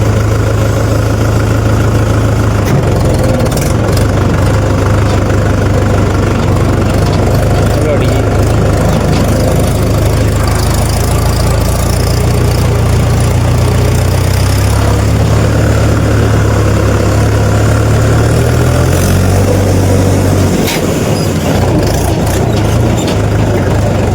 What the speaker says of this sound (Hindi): तो ये ट्रैक्टर करके बाहर खड़ा कर दिया ये